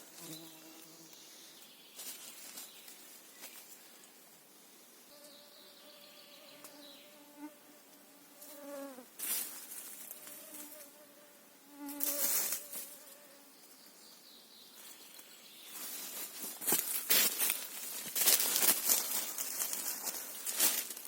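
Insects buzz and whine around the recordist in a June forest, where mosquitoes swarm, with intermittent close passes rising and fading, plus rustling and handling noises growing louder toward the end.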